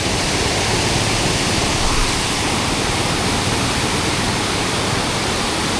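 Continuous rushing roar of falling water, loud and unbroken, with a faint low hum running underneath.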